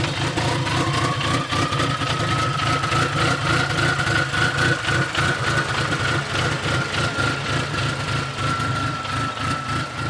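A fully built, cammed Dodge SRT-4 engine idles with a loud, choppy, lumpy rumble, pulsing steadily while a whining tone rises slightly then holds, with no talking.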